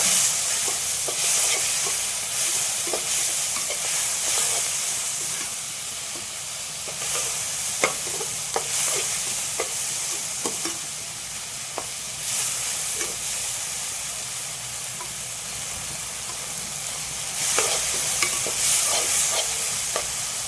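Tomatoes for chicken gravy sizzle and fry in a pan, with repeated scraping stirs of a spoon and steady steam hiss, close and fairly loud.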